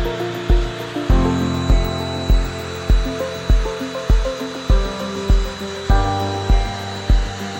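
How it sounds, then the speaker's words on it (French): A CNC router mills under the steady roar of a homemade dust extraction vacuum, with a regular series of sharp, loud mechanical thumps repeating about once a second over the continuous drone. "mon système d'aspiration maison fonctionne parfaitement. Voilà, la découpe est faite."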